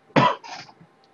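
A single sharp cough close by, followed by a softer, shorter second cough, then quiet.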